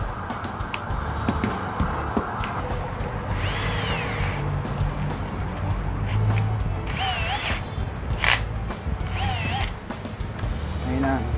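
A Bosch GSR 120-LI cordless drill driving a screw, its motor whining in bursts with rising and falling pitch, mechanical clicking and creaks between runs, close and loud.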